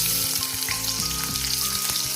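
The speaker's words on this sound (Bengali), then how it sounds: "তো কড়াইয়ে তেল দিয়ে দিয়েছি, দিয়ে দেবো পেঁয়াজ" Onion frying in hot oil in a wok, a close continuous sizzle over a steady low hum with regular pulsing beats.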